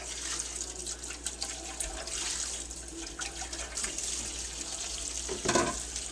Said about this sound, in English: I'm just going to put it in here and just rinse it off with cold water